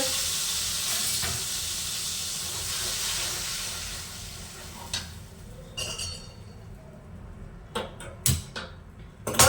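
A loud hissing sizzle of whole spices (cinnamon, cloves, star anise) hitting hot oil fades gradually, followed by a few sharp clinks and stirring sounds.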